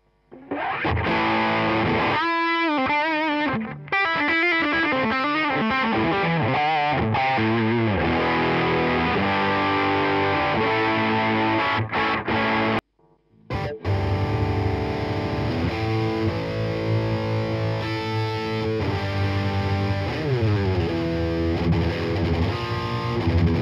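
Electric guitar through a Boss ME-80 multi-effects unit on a lead preamp setting: heavily distorted, sustained notes and bends with wavering vibrato, a long continuous phrase broken by one brief silence before playing resumes.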